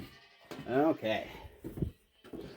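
Goats bleat at feeding time on a small farm that also keeps ducks, giving a couple of wavering, nasal calls close by amid quiet background noise.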